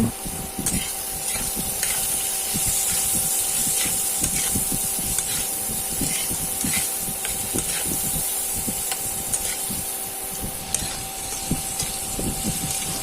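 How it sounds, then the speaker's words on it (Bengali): Diced potatoes frying in oil left over from frying papad, a steady loud hiss and sizzle with crackling pops throughout, close up. "পাঁপড় ভাজার তেলেই দিয়ে দিচ্ছি ডুমো করে কেটে রাখা আলু"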